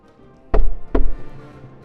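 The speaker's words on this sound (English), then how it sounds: "Not a second later, the knocking started up again." Two sharp, loud knocks on a hotel room door, spaced about half a second apart, standing alone against near silence.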